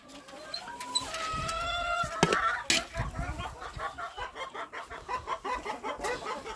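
Chickens, including Australorp hens and a rooster, cluck in a farmyard. A short crowing call rises early, then a busy, close patter of overlapping clucks follows.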